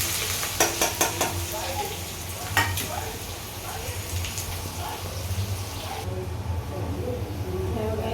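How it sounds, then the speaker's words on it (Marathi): Curry leaves and onion frying in a pan at home, a continuous sizzle with a few sharp crackles and spatters early on, close by, with faint voices in the background. "मी कढीपत्ता कांदा टाकते"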